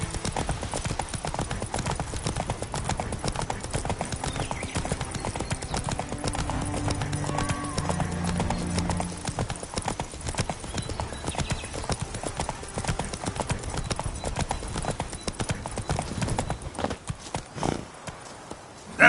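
Hooves of the horse Roach clip-clop steadily at a gallop in the Witcher 3 Blood and Wine game, loud and continuous, with faint game sounds and occasional voice underneath.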